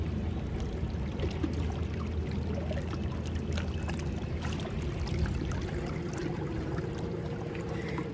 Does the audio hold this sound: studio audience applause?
no